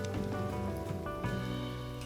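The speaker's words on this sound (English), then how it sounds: "can't get rid of the rain" Rain falls steadily in a modded Minecraft world, a continuous close hiss of drops running for the whole stretch, blended with sustained tonal background sound and no talking.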